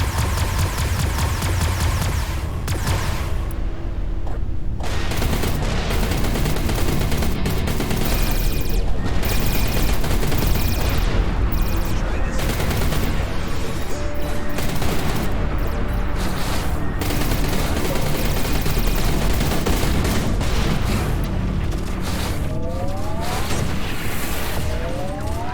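Sustained gunfire from enemy ships in the space combat game Everspace 2, a loud continuous barrage of rapid shots and blasts layered over engine and weapon noise throughout.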